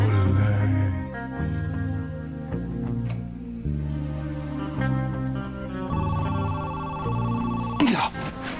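A telephone ringing in a soap-opera scene, a repeating electronic ring pattern in steady bursts over a musical score, ending in a louder clattering sound.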